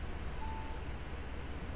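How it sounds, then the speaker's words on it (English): Rain falls steadily in Project Zomboid, a soft, even hiss of drops at moderate level with no other sounds. "And it's raining."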